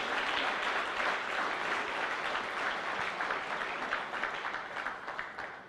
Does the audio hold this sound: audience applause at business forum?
yes